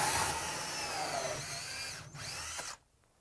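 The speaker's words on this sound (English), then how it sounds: "Now this is a preformed fiberglass duct, easy to drill through." A power drill whines steadily as it bores through a preformed fiberglass duct, rising in pitch near the end before cutting off into near silence.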